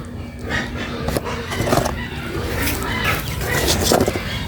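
Chickens cluck and murmur nearby in a steady stream of short calls, with some rustling and background noise.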